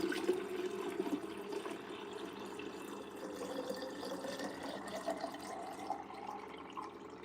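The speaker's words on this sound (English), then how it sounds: "In goes the water." Water is poured into a chemistry lab container in a steady, faint splashing stream that lasts throughout.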